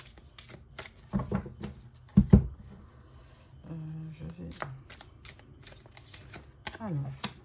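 Light Seer Tarot cards being shuffled by hand in repeated riffling bursts, close and moderately loud, with brief pauses and a few soft voice sounds between the bursts.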